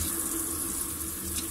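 Lettuce leaves are washed one by one under a running tap, a constant dense rush of water splashing into a sink, close and unbroken for the whole short stretch.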